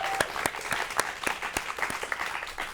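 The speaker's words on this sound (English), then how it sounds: "give him a round of applause" A live audience claps steadily in a room, dense applause with a few sharper individual claps standing out near and loud, no talking over it.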